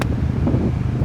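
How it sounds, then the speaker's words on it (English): Gusty wind buffets the microphone over the low mechanical roar of car wash vacuums, brief and noisy, with no voices. "It's windy and there's like vacuums going off"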